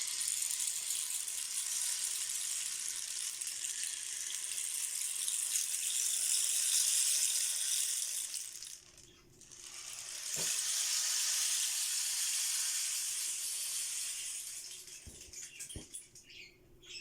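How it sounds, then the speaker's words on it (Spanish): A homemade guadua bamboo rain stick is tilted, pouring a steady, hissing cascade of rattling grains for many seconds, dipping briefly as it turns over, then flowing again until a few scattered taps near the end. "Eso quiere decir que nuestro palo de agua o palo de lluvia está quedando perfectamente bien."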